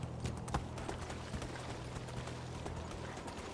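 Steady clip-clop of horse hooves at a trotting pace in the video game Medieval Dynasty, moderately loud over a constant low hum, no talk.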